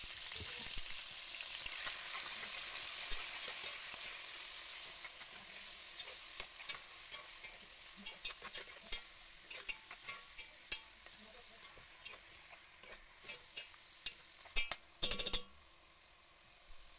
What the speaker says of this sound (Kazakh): Қызып тұрған майға етімізді әбден қуырып аламыз.